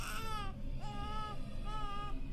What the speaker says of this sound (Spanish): No había duda de que ese llanto provenía de abajo del puente